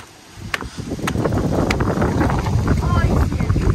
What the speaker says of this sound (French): ici il y a du vent, il fait bon